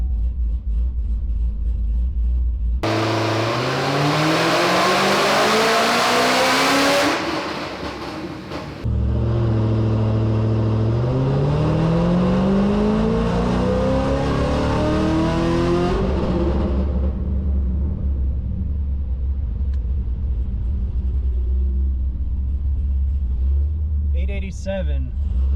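A loud V8 engine in a Chevy SS street car with about 1000 horsepower revs hard toward 5,000 RPM, rising in pitch, drops back, then revs high again before settling into a deep idle rumble.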